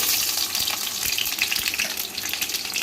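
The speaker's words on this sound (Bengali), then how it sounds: "পেঁয়াজটা ফ্রাই হয়ে গেছে" Chopped onion frying in hot oil alongside bay leaf and dry whole spices, a loud, steady, hissing sizzle that stays close and continuous with no voices.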